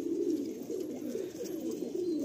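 Pigeon cooing from a loft of Madrasi pigeons, a steady low murmuring coo that runs unbroken for a couple of seconds, close and moderately loud with no voices.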